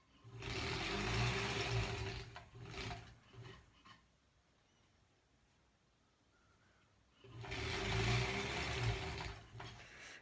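Sewing machine stitching a granny squares quilt, with two sustained bursts of steady whirring separated by a quiet pause.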